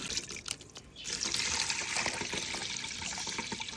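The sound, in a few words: water while washing galangal, lemongrass, garlic and fingerroot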